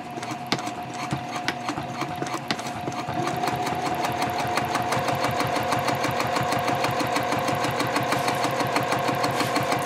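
A sewing machine runs a steady, fast stitching rhythm while backstitching a pocket divider on a messenger bag. The close, continuous mechanical chatter carries on without pause, and no one speaks.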